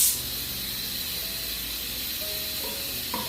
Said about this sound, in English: Here the sound of the air coming into the machine.